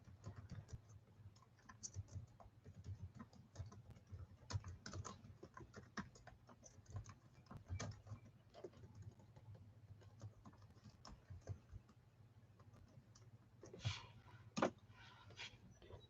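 Typing on a computer keyboard during a card-making craft session: steady, close clusters of light key clicks with brief pauses and a few louder taps near the end, no talking.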